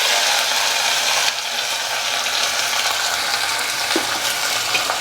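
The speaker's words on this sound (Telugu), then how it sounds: "ఇదిగోండి ఈ టైంలో ఉల్లిపాయ, పచ్చిమిర్చి, కరివేపాకు వేసేస్తున్నాం" Onion, green chilli and curry leaves fry in hot oil with mustard seeds, giving a steady close sizzle with brief clinks of stirring.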